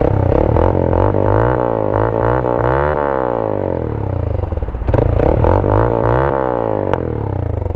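Motorstar Cafe 150 motorcycle engine cold starting, a loud close rattling idle with rising and falling revs and a clattery mechanical texture, running continuously without speech.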